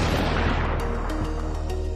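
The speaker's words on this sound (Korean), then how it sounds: "총성이 또 한 번 울렸다." A gunshot sound effect opens with a loud crack, then booms and rumbles in a long, fading tail. There is no speech.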